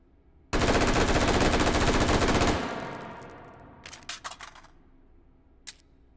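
A gun in the VR shooting game Hot Dogs, Horseshoes & Hand Grenades emptying a magazine in one loud, continuous rapid-fire burst that fades into an echoing tail, followed by a few sharp mechanical clicks and clacks.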